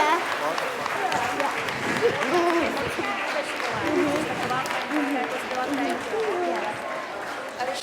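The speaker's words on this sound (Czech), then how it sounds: "ještě jednou potlesk pro naše předškoláky a pro všechny děti" A crowd of parents applauds preschoolers and other children at a spring kindergarten show, steady clapping blended with children's voices and chatter throughout.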